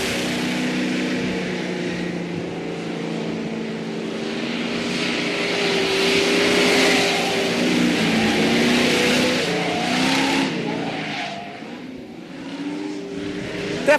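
Ford Mustang Boss 429 muscle car driving a pylon course on track, its engine holding a steady, loud droning note throughout, with rising and falling pitch as it works the throttle.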